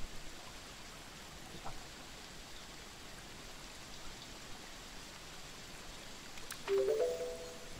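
A river in the farming game Kynseed flows as a steady, soft wash of water that runs the whole time, with a brief chime-like tone near the end.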